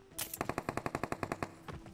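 Rapid bursts of AK rifle automatic fire in the video game PUBG, a dozen or so sharp evenly spaced shots in a steady rhythm, loud and close with no talking.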